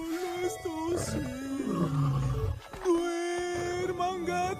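Hungry lions roar loudly in a film scene, deep drawn-out roars rising and falling over about four seconds, mixed with music and a voice singing a Christmas song over them.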